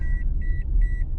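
A Toyota RAV4's seatbelt warning chimes three times in a steady, evenly spaced rhythm, clear high beeps over a low cabin engine rumble.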